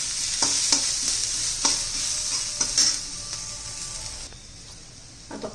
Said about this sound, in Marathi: म्हणजे आलं आणि लसूण कांद्याबरोबर छान असं परतून घ्यायचं आहे चांगलं तांबूस रंगावरपर्यंत